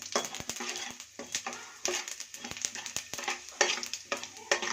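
Mustard seeds and tempering spices fry in hot oil for cashew upma with an active sizzle, sharp seed pops and crackles, and clinks from stirring in the pan, close up.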